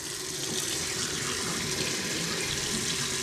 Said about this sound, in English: I'll rinse them out real good